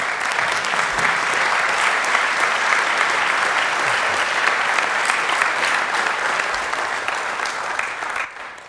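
An auditorium audience at a seminary lectureship gives sustained applause welcoming Dr. Rich Freeman, a dense, even clapping that lasts the whole stretch and fades slightly at the end.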